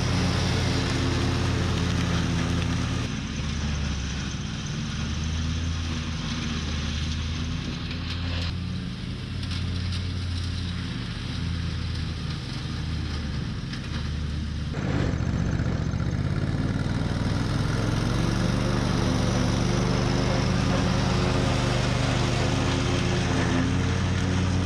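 A lawn mower engine runs steadily while mowing grass in a field near a persimmon tree, a continuous mid-pitched drone that briefly changes pitch and load several times.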